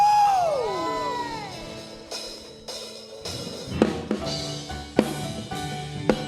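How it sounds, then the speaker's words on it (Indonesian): A church congregation at a Sunday worship service cheers and whoops in scattered bursts over fading musical tones, with sharp peaks of shouting and claps spread through the room. "Mari sama-sama kita berikan sorak-sorai meriah buat Tuhan kita."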